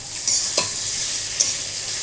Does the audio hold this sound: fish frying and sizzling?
yes